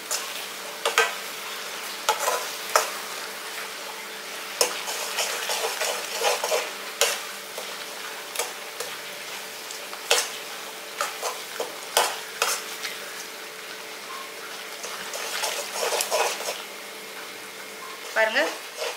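Thick tomato pickle bubbles and sizzles as it boils in a pan while a spoon scrapes and taps against the metal in irregular strokes, close by.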